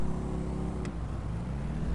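Road traffic heard from a moving motorcycle, a steady engine and wind rumble with cars passing close by, a brief sharper burst near the middle, no talking.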